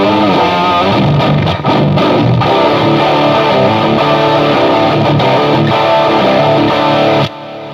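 Schecter Diamond Series Black Thing seven-string electric guitar with humbuckers, played through heavy distortion in a loud, dense riffing passage that stops abruptly near the end.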